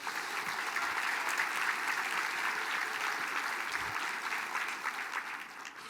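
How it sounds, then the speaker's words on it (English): Steady audience applause at a Mille Lacs Band of Ojibwe State of the Band event, a dense, even wash of many hands clapping from the crowd that holds for several seconds with no talk over it. "Can you guys give my family a round of applause, please?"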